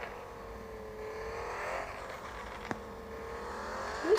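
Police car engine revving in the Car Parking video game, a synthetic engine note climbing and falling in repeated sweeps with a sharp click midway, moderately loud and without talk.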